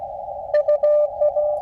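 Morse code tones from a strong amateur radio signal received from Colorado, a loud steady pitched sidetone keyed in a quick run of dots and dashes over faint background hiss.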